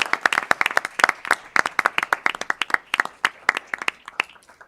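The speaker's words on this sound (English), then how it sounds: "It's a round of applause for our panelists." A small audience at a cost trends hearing claps for a panel, sharp individual claps in a fairly sparse, rhythmic burst that thins out toward the end.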